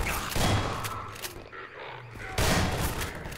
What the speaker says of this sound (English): their turrets shoot through the wall.